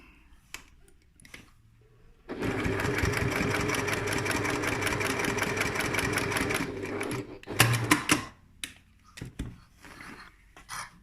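A sewing machine stitching rows on a lined messenger bag runs in a steady, close, rapid mechanical chatter for about five seconds, with brief handling clicks and rustles of fabric before and after.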